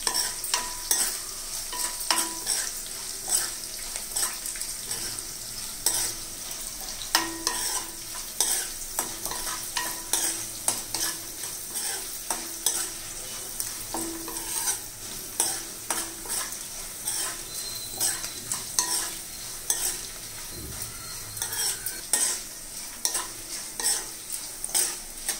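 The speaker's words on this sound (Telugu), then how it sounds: "బాగా వేగని తర్వాత కొంచెం బాగా వేపాలండి" Ingredients for a sweet pumpkin curry fry in a pan, a continuous sizzle broken by a long run of rhythmic spoon scrapes and clinks against the metal, close and busy, with no voices.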